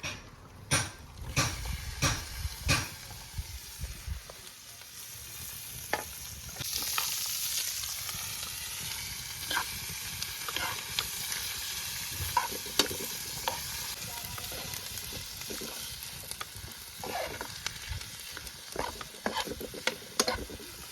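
Bell pepper, garlic, onion, scallion and thyme fry with salted cod for ackee and saltfish, giving a continuous sizzle broken by frequent stirring clinks and scrapes against the pot, close up with no speech.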